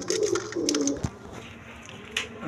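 High-flying pigeons, a pair, give soft throaty coos close by in short bursts, with faint rustling and no talking.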